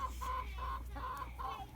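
Chickens cluck close by in a run of four rhythmic, nasal calls, fairly loud over a low steady hum, with no speech.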